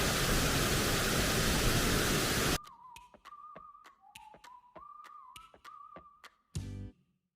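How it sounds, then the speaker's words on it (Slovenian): Waterfall at Padstanajca pours as a dense, loud roar for the first couple of seconds, then cuts away to quieter outdoor sound with a thin whistle-like tone and scattered taps. "Tole pa celo slapišče."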